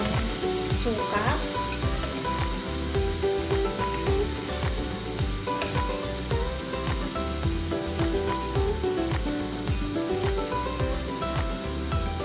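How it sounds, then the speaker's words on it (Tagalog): Adobong sitaw sizzling in a pan as vinegar goes in: a lively, continuous frying crackle with stirring scrapes, close and moderately loud, over faint background music. "Lagyan na natin ng suka."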